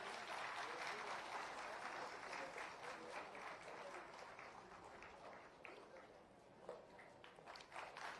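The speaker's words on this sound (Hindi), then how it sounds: "हम सब अपनी तालियों से उनका स्वागत करेंगे" At a government housing allotment ceremony attended by Chief Minister Bhajanlal Sharma, a seated crowd gives sustained, fairly soft applause welcoming Chief Secretary B. Srinivas, the clapping steady for several seconds before thinning out.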